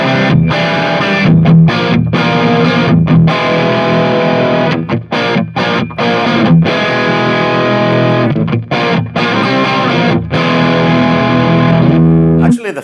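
An electric guitar plays a high-gain distorted tone through a Tone King Royalist amp, loud thick chords ringing with brief choppy gaps between strums.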